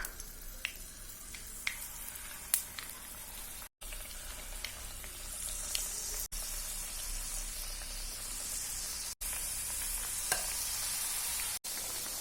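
Small chembappam dough balls fry in hot oil, giving a soft, continuous crackling sizzle with scattered pops and spatters, fairly quiet and close, with no talking.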